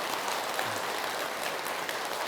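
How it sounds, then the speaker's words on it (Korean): Applause from an audience at a Buddhist temple Dharma talk, a steady wash of many hands clapping, moderately distant and even throughout. "박수는 타이밍이랬죠?"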